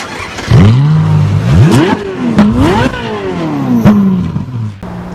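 Toyota Hilux Revo 2.4 Entry Z Edition 2021 pickup with automatic gearbox accelerating, its engine revving up in repeated rising sweeps as gears change, loud and close.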